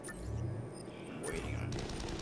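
Rapid gunfire from a firefight in Mass Effect 3, a sustained burst of shots at moderate level with a brief pause before another volley.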